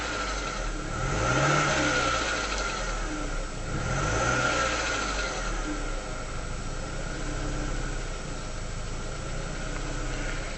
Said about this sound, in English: Hopefully you can hear that rattle as you go on the overrun.